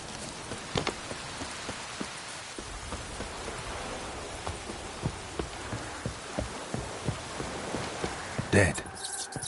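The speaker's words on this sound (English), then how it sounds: "Looks like rain." Steady rain hiss with scattered drips and soft thuds, a continuous wash of noise, ending in a brief louder burst, from the video game The Witcher 3.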